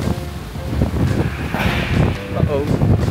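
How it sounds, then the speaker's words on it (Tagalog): Strong, fresh wind gusts across an outdoor resort pool area in Quezon City, buffeting the microphone with continuous roaring noise while faint voices mix in underneath. "dito ang fresh ng hangin. Lakas."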